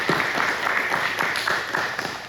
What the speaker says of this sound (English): So let's give them a round of applause for